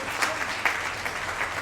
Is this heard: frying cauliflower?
no